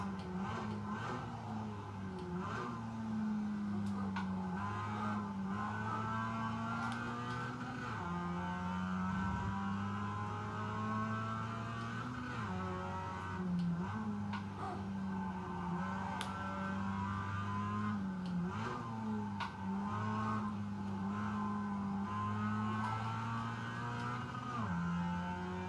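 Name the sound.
race car engine on a hot lap in iRacing video game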